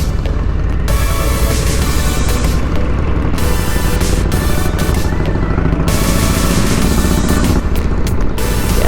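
A motorcycle being ridden around Cape Town and Simon's Town, a loud, unbroken engine roar blended with heavy wind rush and buffeting throughout.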